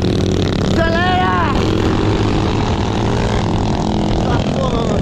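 A mini motorcycle accelerates along a dirt trail near a military antenna area, its engine loud and close with a rising whine, while voices are heard over it.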